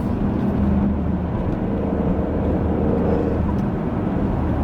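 Alfa Romeo Stelvio Quadrifoglio SUV driven in sport mode, a steady loud engine drone with road and wind noise running continuously throughout.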